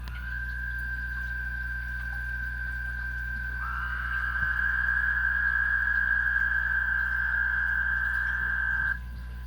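Wood frogs kept indoors in an enclosure with toads give a continuous, steady high trill that rises slightly partway through and stops abruptly, over a low constant hum.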